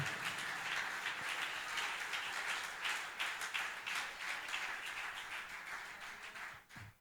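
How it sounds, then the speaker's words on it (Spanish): Church congregation applauding strongly after being urged to clap, a steady wash of many hands clapping at moderate distance for several seconds, fading slightly at the end. "Alguien aplauda fuerte al Rey de Reyes y Señor de Señores."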